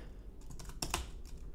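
A few computer keyboard keys pressed in quick succession for a shortcut, sharp close clicks clustered near the middle of a quiet stretch, with no talking.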